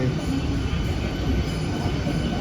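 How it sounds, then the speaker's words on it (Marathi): A steady, heavy rumble of a train arriving along the rails during monsoon rain, loud and continuous with a dense low roar throughout. "आता बऱ्याच टायमानंतर ट्रेन आलंय"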